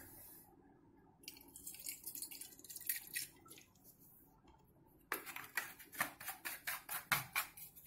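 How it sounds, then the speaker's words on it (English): Vinegar poured into a glass conical flask for an egg-in-a-bottle experiment, heard as close splashy pouring in two bursts, the second louder and steadier with rhythmic gurgling pulses. "we first take some vinegar and pour it into the conical flask."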